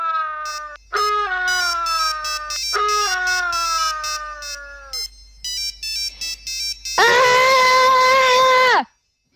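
A synthetic electronic ringtone plays repeated melodic bursts, then a sustained buzzing tone, loud and close with no talking.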